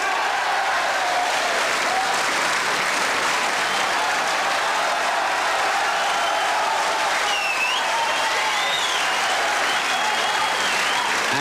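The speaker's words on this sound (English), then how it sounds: "The crowd here at the Crucible are going mad for Bradford's Joe Johnson." A crowd at the Crucible cheers and applauds steadily during the 1986 Embassy World Snooker Championship final, a dense, sustained roar of clapping with faint whistles.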